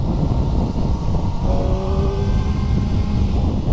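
A Kawasaki ZX4RR sport bike engine runs loud and close, a dense, steady roar that swells slightly without any clear break.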